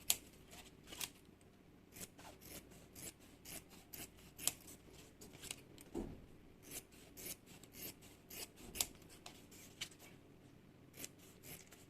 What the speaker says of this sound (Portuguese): Vou cortar aqui toda a sobra de forro.